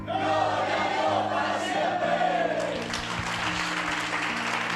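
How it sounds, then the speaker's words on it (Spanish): A church congregation applauds during a sermon, a sustained wash of clapping with a rising cheer partway through, crowd voices mixed in. "Cada aplauso es para ti, Padre."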